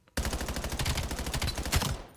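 Rapid automatic gunfire at training targets in the video game Black Ops 7, a dense, loud string of shots that keeps going almost without a break.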